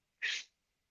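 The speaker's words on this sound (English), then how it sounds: "Sneeze" A single short, sharp sneeze, close and fairly quiet, with silence before and after.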